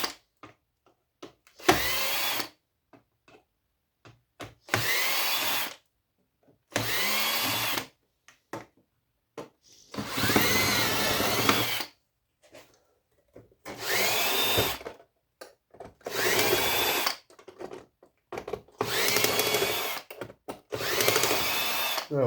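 A power drill unscrews Phillips screws from scrap electronics in repeated bursts of high whirring, each lasting one to two seconds and separated by short silent gaps, close and fairly loud.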